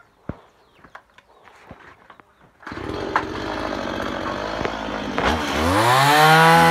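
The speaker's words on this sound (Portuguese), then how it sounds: "Eu vou passar a motosserra agora," A chainsaw starts up and runs loudly during home carpentry work fitting a door and cabinet doors, preceded by a few scattered knocks, then revving higher toward the end.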